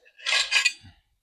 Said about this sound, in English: we are going to put a lid on this and just let it simmer for